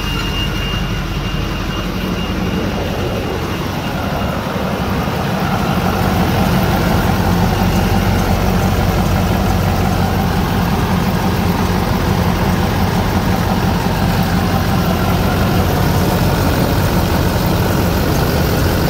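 A 2006 Duramax LBZ diesel engine idling smoothly and steadily, a loud continuous rumble with no shake or variation heard up close for the whole stretch, with no talking.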